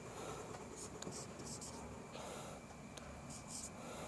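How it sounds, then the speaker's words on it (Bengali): Pen or marker scratching out an English sentence by hand during a grammar lesson, a steady faint scraping with short strokes and taps, close and continuous over a noisy background. "আমি একটু সেন্টেন্সটা একটু লিখি দেখো"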